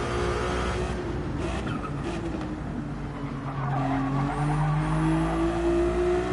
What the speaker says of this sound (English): That Ferrari sounds odd